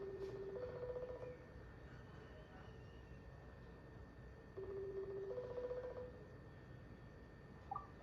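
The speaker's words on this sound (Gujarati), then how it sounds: "રીંગ જાય છે" A faint telephone ringback tone sounds in two long repeated bursts separated by a pause, over quiet background hiss.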